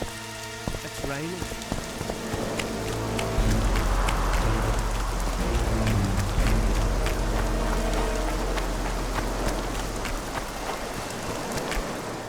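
Steady rain falls in The Witcher 2, a dense hiss of drops on surfaces that swells louder after a few seconds and continues evenly, with a low rumble beneath and faint game tones early on.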